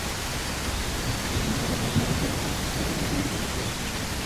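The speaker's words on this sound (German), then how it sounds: "Der Regen ist so laut." Loud, steady rain in the Bigfoot video game, a dense unbroken hiss with low rumbling underneath and no pauses.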